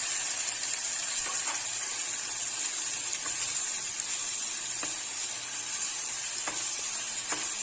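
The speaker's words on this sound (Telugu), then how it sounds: "2 మీడియం సైజ్ టొమాటోస్ వేస్తున్నాను." Two medium-size tomatoes going into a hot pan of frying spices for chicken pulao, a loud, constant, close sizzle with occasional faint pops and clicks.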